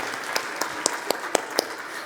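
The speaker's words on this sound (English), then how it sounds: "let's give everyone here a big round of applause for being here" Scattered claps ring out at a dentists' summit, a few sharp, distinct hand claps standing out above a softer background patter of applause.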